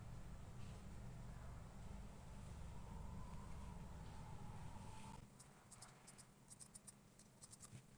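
Scissors trim padding material for a handmade padded headband. A steady background hiss runs first, then a quick run of small, crisp snips follows, close up and with no talking.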